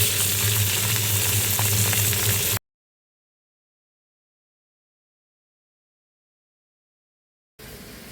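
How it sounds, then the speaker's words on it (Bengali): Fish sizzling steadily in hot frying oil, a loud close crackle that cuts out abruptly into total silence for several seconds before the frying resumes. "বাকি মাছগুলো আমি এরকম করে ভেজে নেব সব কটা।"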